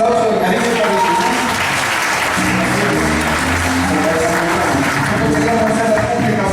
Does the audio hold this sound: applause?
yes